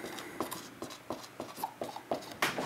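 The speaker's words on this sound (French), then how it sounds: "Alors je vais écrire bijection réciproque" Chalk or marker scratches across a board in short, rhythmic strokes, about ten quick bursts close by during a math lesson on logarithms, with no talking.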